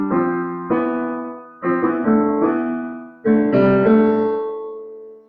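A melody doubled a fifth above, as in medieval organum, plays as sustained keyboard-like tones in parallel, several phrases of held notes that decay, clear and without talking.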